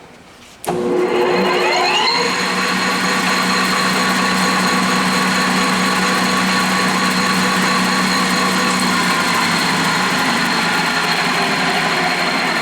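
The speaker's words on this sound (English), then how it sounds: "I think I can shut this off so you can just hear the spindle only" A Victor 1640 toolroom metal lathe spindle whirs up abruptly and then hums steadily with a high whine and faint vibration, running loud and continuous with no talking.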